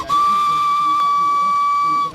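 The whistle of an old steam engine driving a threshing machine gives one loud, sustained, steady shrill blast that holds for about two seconds and then cuts off, with a faint hiss of steam behind it.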